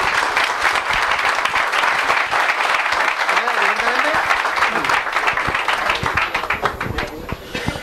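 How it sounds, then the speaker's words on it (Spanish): An audience at a talk on measuring the universe breaks into a sustained round of applause, dense and steady, with a brief murmur of voices in the middle. "Un aplauso, por favor"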